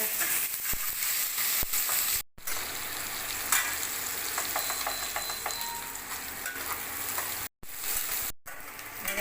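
Chopped onion with bay leaf and cinnamon fries in mustard oil in a wok, giving a continuous bright sizzle with faint crackles, briefly interrupted by a couple of short silent gaps.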